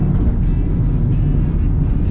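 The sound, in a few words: tuned Mercedes CLA 45 AMG accelerating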